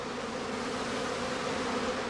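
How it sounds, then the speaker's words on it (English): A honeybee prime swarm buzzes steadily around a heather skep in an apiary, a dense, continuous hum of many wings filling the air at close range with no pauses. "The prime swarm flies off."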